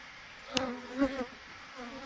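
Honey bees at a hive buzz in short, faint drones, with a few individual bees passing close and then fading against a quiet background.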